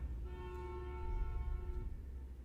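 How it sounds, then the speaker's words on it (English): A bus horn honks once outside in a residential neighborhood, a sustained steady tone lasting over a second against low background rumble. "Do we have a bus that drives around our neighborhood and honks?"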